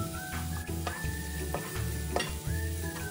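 Minced garlic and scallion whites sizzle briskly in a couple of spoonfuls of oil in a wok. The crackle is close and continuous, with a few utensil scrapes and a steady low hum underneath.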